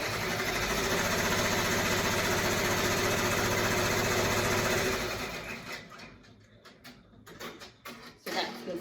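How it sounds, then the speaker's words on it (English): An embroidery machine doing a placement stitch on fabric for a face mask, a steady fast loud mechanical whirr for about five seconds, then stopping and leaving quieter clicks and handling noises. "now it's doing the placement stitch for the other pieces of fabric"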